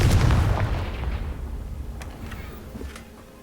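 In the Hogwarts Legacy video game, a Confringo explosive spell goes off as a loud, close fiery boom, then decays into a rumbling tail with a few smaller pops.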